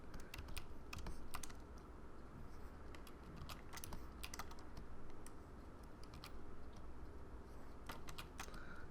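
Rapid keyboard typing and key presses on a computer keyboard during ZBrush 3D sculpting work, a steady run of sharp clicks over a constant low background hum, with no talking.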